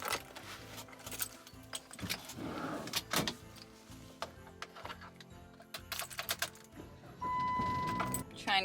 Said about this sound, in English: So I'm gonna grab my keys and stuff